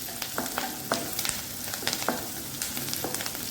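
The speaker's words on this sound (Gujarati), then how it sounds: "આવી રીતે આપણે હલાવતા રહીશું અને તળી લઈશું" Green chilies stirred and fried in oil for a sweet jaggery chili dish, a steady close sizzle with a few sharp scrapes of the spoon against the pan, no voices.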